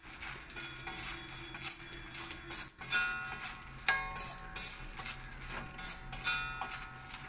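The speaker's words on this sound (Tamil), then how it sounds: "லோட்டஸ் சீடை மிக்ஸ் பண்ணுறேன்" Lotus seeds being stirred as they fry in a pan, with a metal spoon clinking and scraping against the pan in a quick, irregular rhythm, close and clear with no talking.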